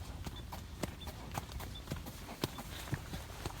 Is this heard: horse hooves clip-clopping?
yes